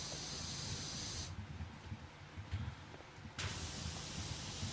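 A pressure washer in Powerwash Simulator sprays in loud hissing bursts while cleaning a boat, cutting off for about two seconds before starting again, with no speech.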